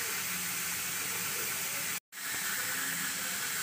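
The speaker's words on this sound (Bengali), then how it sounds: "দেখতেই পাচ্ছেন বাটকে আমি ধুয়ে জল দিয়ে দিচ্ছি" Water from rinsing a yogurt bowl poured into a hot pan over low gas while cooking chicken kosa, a loud continuous sizzling hiss with one abrupt brief gap in the middle.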